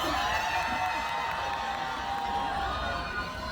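A large festival concert crowd of thousands at the Tongyeong Hansan Battle Festival roars and cheers continuously, a broad distant wash of shouting and whoops that holds steady throughout.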